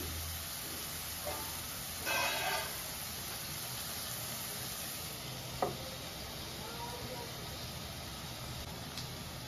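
Mutton poured into a hot pot for curry gives a faint, steady sizzle and hiss throughout, with a couple of brief stirring scrapes and clinks.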